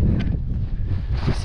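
Gusty wind on the slopes of Cotopaxi mountain buffets a nearby microphone with a low, continuous rumble that rises and falls over a second and a half.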